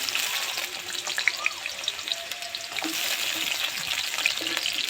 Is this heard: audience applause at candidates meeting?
no